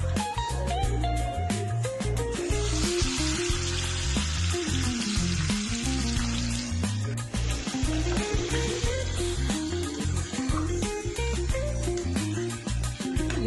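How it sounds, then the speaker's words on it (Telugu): Chicken pieces fry in hot spiced oil in a pan, giving a loud, continuous sizzle close by, with repeated clanks and scrapes from stirring throughout. "ఇలా ఆయిల్లో చికెన్ ఒక 2 నుంచి 3 నిమిషాలు బాగా ఫ్రై కావాలండి."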